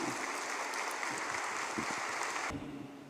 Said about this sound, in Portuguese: Dá uma salva de palmas nesse dia do seu natalício.